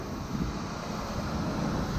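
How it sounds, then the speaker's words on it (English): Steady wind buffets an outdoor microphone in a windy area with a continuous low roar, with no voices or other sounds. "It's windy right now, and it can still handle it."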